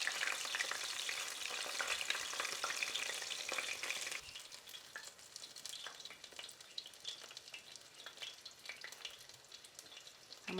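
A breaded chicken cutlet fries in a pan of hot oil, crackling and sizzling steadily, loud at first and then dropping to a quieter, busy crackle with scattered pops, no voices.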